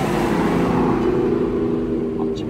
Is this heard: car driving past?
yes